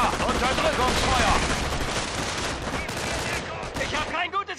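Suppressive gunfire crackles in the Company of Heroes video game, dense overlapping machine-gun and rifle bursts, loud and continuous, with a voice shouting briefly near the end.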